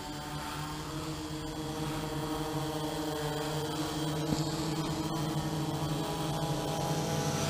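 A JETFUN EAGLE 650 X8 octocopter drone flying on its first flight gives off a steady multi-rotor buzz with layered tonal hums, holding an even level throughout without speech.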